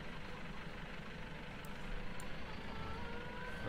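A truck in Farming Simulator 15 backs into a shed, its steady engine drone carrying a couple of faint high reversing beeps in the middle.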